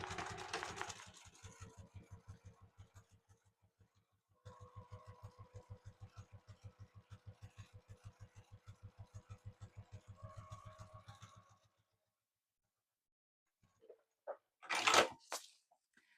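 A Juki TL2000QI sewing machine stitches through vinyl in rapid, even mechanical bursts: a short run, a pause, then a longer steady stretch of needle thumps, followed by quiet handling clicks.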